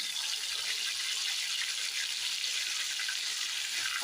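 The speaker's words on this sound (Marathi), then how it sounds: "आता टमाटरची पेस्ट पण आपल्याला तेलामध्ये नीट परतून घ्यायची आहे." Tomato paste mixed with ground dry coconut frying in hot oil, giving a loud, steady, close-up hiss of sizzling that stays even and continuous from start to end.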